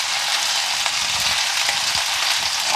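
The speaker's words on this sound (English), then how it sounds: "Okay, the pan's hot as you can hear. Sizzle, that's my favorite thing." Steady, dense sizzling of chicken frying in a hot pan, a continuous loud crackle with small pops scattered throughout.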